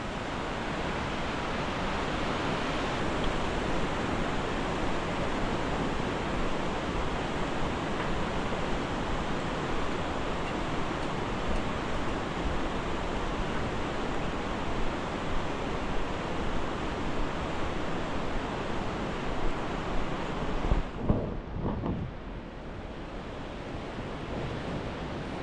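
The Dingboche river on the Everest Base Camp trek, a steady loud rushing roar of flowing water with some wind buffeting, continuous and close, easing slightly near the end with no talking.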